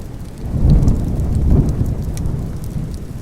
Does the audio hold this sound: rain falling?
yes